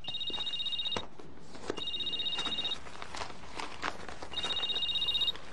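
A telephone rings indoors in three evenly spaced, trilling bursts with short gaps between them, fairly clear and alone with no talk over it.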